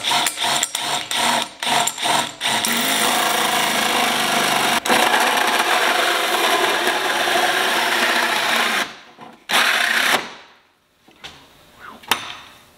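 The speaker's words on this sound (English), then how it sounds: "we've got our 2-inch drum sanders that we're going to use on a die grinder" Die grinder fitted with a 2-inch drum sander opening up a hole in a car fender, a loud sustained high-pitched whir after a few short bursts, then stopping with brief clanks and a quiet tail.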